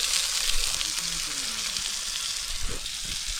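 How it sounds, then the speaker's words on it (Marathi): Chicken leg pieces fry on a clay roof tile outdoors by a river in Khed, Ratnagiri, with a loud, steady sizzle and crackle running the whole time and a few louder pops near the end. "आपलं लेग पीस मस्तपैकी कवला मस्त भाजतं आहे, मस्तपैकी शिजतं आहे"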